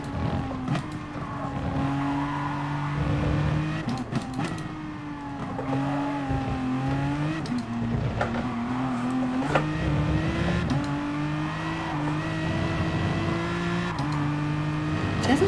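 Aston Martin race cars in GT Sport at Catalunya do burnouts, engines holding steady droning revs with shifting pitch, tires squealing and brief sharp bursts over a continuous loud roar.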